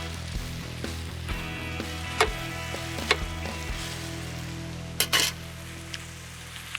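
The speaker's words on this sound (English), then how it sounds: "start melting down that butter. Gnocchi's going in." Gnocchi and peas frying in melted butter with black pepper and lemon juice, a steady soft sizzle with occasional sharp crackles and clinks of stirring, close by and without talk.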